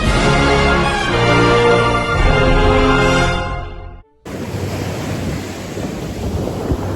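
Ocean surf at Newport Beach rumbles loudly and close, a continuous crashing wash of waves, broken by a brief cut before the steady roar of water and wind resumes.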